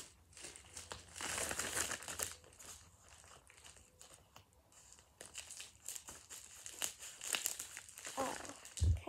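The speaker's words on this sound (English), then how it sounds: "So now we're gonna actually cut the package." An Amazon package is cut open with scissors: close, quiet crinkling and tearing of plastic packaging in irregular bursts, with snips and rustles throughout.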